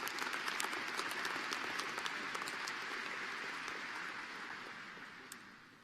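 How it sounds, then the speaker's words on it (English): An audience at a civil and environmental engineering graduation awards celebration gives a round of applause, even, fairly faint clapping that holds steady and then slowly tapers off near the end. "round of applause for Alex's contribution."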